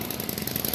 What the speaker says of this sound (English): You notice how he starts drilling the moment I start walking?